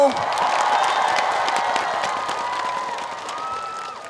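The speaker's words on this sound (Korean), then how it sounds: "큰 박수 한 번만 주시겠어요?" Festival audience applause and cheering for a trot singer on stage at an outdoor festival, a dense crowd of clapping with shouts and whoops from the front, gradually easing.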